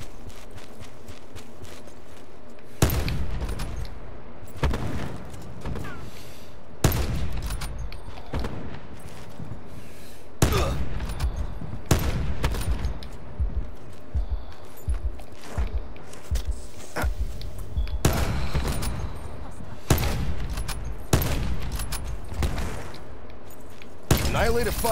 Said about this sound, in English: Annihilator firing.